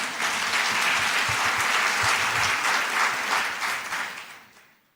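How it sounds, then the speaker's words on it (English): Conference crowd clapping at the Absa Inspire Me Conference 2024, a full, sustained burst of many hands that stays loud and even, then tapers off and fades to quiet at the end. "it's very encouraging that you continue clapping"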